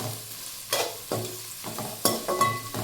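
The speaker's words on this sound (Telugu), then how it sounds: "ఇప్పుడు వీటిని గోల్డెన్ బ్రౌన్ కలర్ వచ్చే వరకు ఈ ఆయిల్లో ఫ్రై చేసుకోవాలి నిదానంగా కలుపుకుంటూ ఫ్రై చేసుకోవాలి" Sliced onions fry in hot oil for biryani while being stirred, a steady close sizzle broken by several sharp scraping stir strokes at irregular intervals, with no talking.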